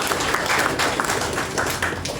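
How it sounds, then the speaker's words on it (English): Audience applause at a Virtual Autopsy UK event in the Philippines, a steady wash of many hands clapping at close range, continuous and fairly loud with no speech over it. "Let's give them a round of applause."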